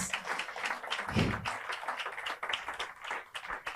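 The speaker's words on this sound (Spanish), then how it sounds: "Démosle un fuerte aplauso al Señor." Congregation clapping during a Spanish-language church service, a fairly quiet, uneven patter of hands with a brief low thump near the start and a murmur of voices underneath.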